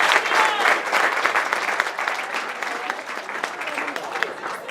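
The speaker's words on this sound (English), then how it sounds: "Give them a round of applause for the Mealy game." A wedding reception crowd applauds after the newlywed game, with loud, sustained clapping from many hands that fills the whole stretch, and a few voices mixed in.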